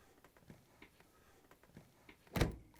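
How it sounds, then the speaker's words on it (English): An LG/Kenmore dishwasher door swings shut with a single solid thud near the end, after a few faint clicks and taps in an otherwise quiet room. "we can close the dishwasher door"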